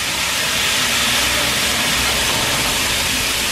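Chicken pieces dropped into a hot pan, giving a loud, constant, broadband hiss of sizzling fat that holds steady and close with no pauses.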